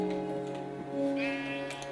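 Sheep bleating in Minecraft, a few wavering, nasal bleats in a row, fairly close and clear over a faint steady game background.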